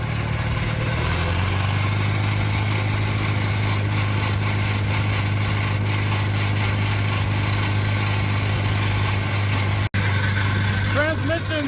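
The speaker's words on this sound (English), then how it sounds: "Transmission's a little noisy." A steady, loud old tractor engine and noisy transmission drone with a strong low hum and mechanical rattle throughout, idling and grinding close by.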